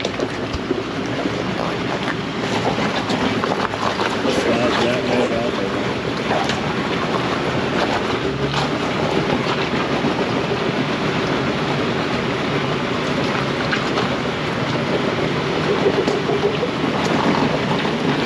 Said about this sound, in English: That's the Milestars getting some traction.